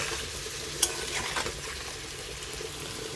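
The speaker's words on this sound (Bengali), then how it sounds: "এবার একটু কষিয়ে নিতে হবে, অর্থাৎ মশলাটার কাঁচা গন্ধটা যেন দূর হয়।" Ginger garlic paste sautéing in a pan for a fish-head and pumpkin dish, a low steady sizzle with light stirring scrapes and one sharp clink near the start, no voices.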